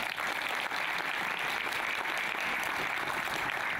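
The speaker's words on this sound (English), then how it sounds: "Big applause for all your athletes." An audience at a women's 25 m pistol final of the 2013 ISSF World Cup in Changwon, Korea, claps for the athletes in steady, dense applause at a moderate distance.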